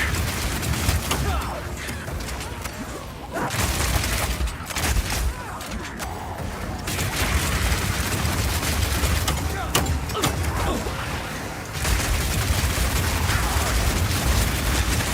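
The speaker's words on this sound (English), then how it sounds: "when the crossbow is heated up, it adds extra fire damage to any grenade that you launch" Explosive grenades launched from a heated crossbow in a video game, heavy gunfire and booming blasts in dense overlapping bursts throughout, loud and close, with a narrator's voice talking over the combat.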